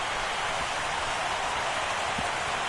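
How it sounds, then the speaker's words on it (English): Heavy rain pouring down during a night baseball game in MLB The Show 16, a dense, even hiss of downpour that stays constant and loud with no voices. "this rain is intensifying now. This is as hard as it's come down all night"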